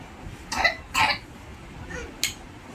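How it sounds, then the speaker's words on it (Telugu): Several short, sharp coughs close by, two quick ones followed by a fainter pair, in a quiet setting with no talking. "అమ్మో, దగ్గు కూడా వస్తుంది"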